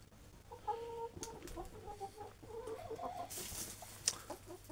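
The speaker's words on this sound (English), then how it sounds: "One little lonely chicken." A lone chicken clucks in a series of soft, repeated calls at close range, with a brief sharp bird chirp near the end and low background hum.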